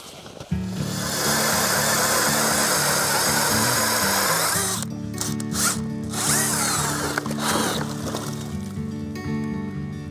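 Ice auger drilling a hole through about 20 inches of river ice in winter, a loud continuous motor drone with a steady grinding whine held for the whole stretch, shifting slightly midway as the bit cuts through; no talking.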